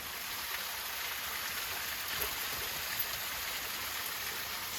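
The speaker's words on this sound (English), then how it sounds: "Super cute little waterfall" Small waterfall on a forest trail, a steady broadband rush of falling water, continuous and fairly close, with no voices over it.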